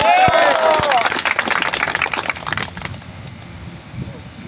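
Rally crowd at an Awami League gathering in Mithapukur breaks into loud, crackling applause, dense clapping near and far that rises at once and slowly thins over several seconds, with voices mixed in.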